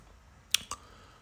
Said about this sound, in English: hit enter on our keyboard.